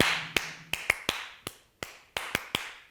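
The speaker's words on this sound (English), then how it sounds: "So you have to clap louder." Children clap along to a drum in an early childhood classroom: about ten sharp, close claps or hits land in an uneven rhythm, each decaying quickly, with no talking.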